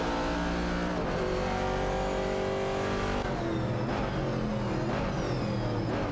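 Racing engines from a 1968 Chevrolet Camaro and a Dodge Challenger roar loudly in a racing video game, revving and shifting continuously with no pauses.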